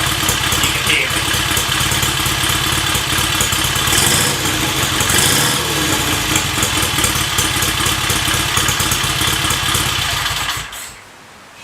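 A 1947 Sunbeam S7 motorcycle engine, warm and push-started, running at a steady loud idle close by for about ten seconds before cutting out, with a voice talking over it.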